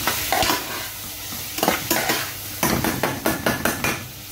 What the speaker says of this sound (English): So, papalatain ko lang yung tomato.